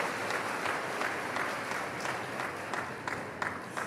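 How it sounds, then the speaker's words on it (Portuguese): A church congregation applauds loudly and continuously after a sermon reading, the clapping of many hands forming a dense, steady roar heard up close without speech. "Vamos aplaudir a palavra do Senhor bem forte"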